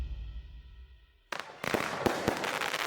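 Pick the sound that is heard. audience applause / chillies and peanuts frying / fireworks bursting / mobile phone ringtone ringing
fireworks bursting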